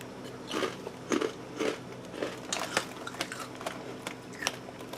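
Crunchy Kettle Brand salt and pepper crinkle cut potato chips being bitten and chewed up close: a quick series of sharp, crackling crunches in uneven bursts over a quiet room.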